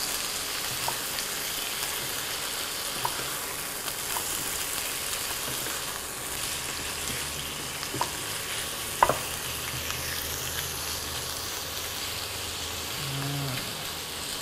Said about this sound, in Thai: พอเนื้อไก่เราผัดไปได้สักพักก็ เริ่มสุกขึ้นมาบ้างแล้วนะครับ